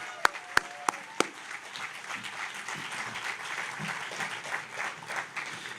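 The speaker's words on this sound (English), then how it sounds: "Let's give them a big round of applause." A city audience at a State of the City address breaks into steady applause for police officers, a continuous wash of many hands clapping at moderate distance, opened by a few sharp louder claps.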